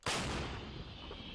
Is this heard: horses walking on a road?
no